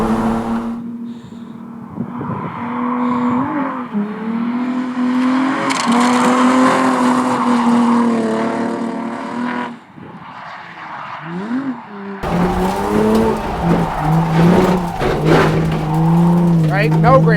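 A car drifts with its engine revving hard in rising and falling sweeps, tyres squealing and scrabbling for grip, loud and close, with a short lull midway and a voice talking at times.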